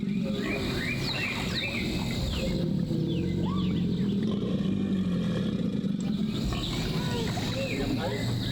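Alligators bellowing in a pond, low rumbling roars rolling across the water at a distance, with birds calling and faint children's voices in the background.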